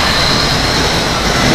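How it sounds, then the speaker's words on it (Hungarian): A steady, loud mechanical rumble with a high whine on top, a roller coaster car clanking up a lift hill, continuous throughout with no talk. "Most megyünk fölfelé."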